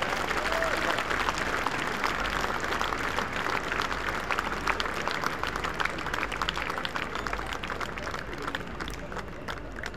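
Audience applause at a school's 125th Founder's Day ceremony, a large crowd clapping steadily in a big space, sustained and fairly even, with faint crowd murmur and a low hum beneath, fading slightly near the end.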